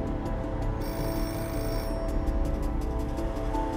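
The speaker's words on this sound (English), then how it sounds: "Shortly after midnight, the phone rings" A telephone rings in a home shortly after midnight in London, 1973, its repeated bell bursts sounding steadily over a dense, continuous background with no one talking.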